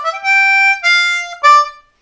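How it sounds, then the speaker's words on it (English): A C harmonica plays a short, slowed-down blues lick: three sustained, reedy notes in a row, bright and close, with no voices. "So the first lick sounds like this."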